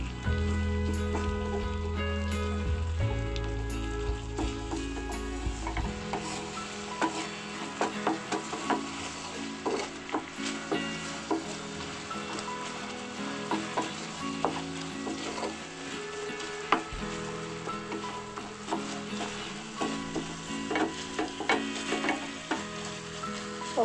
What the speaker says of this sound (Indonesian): Aduk-aduk lagi ya, biar merata warnanya.